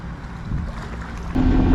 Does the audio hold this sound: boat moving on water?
yes